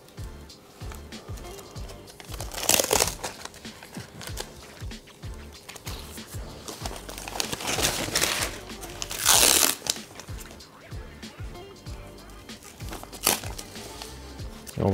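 Elastic kinesiology tape wrapped twice around a knee during strapping: quiet, close rustling and sticky crinkling throughout, with two short, louder crackly bursts as the tape is pulled and laid down.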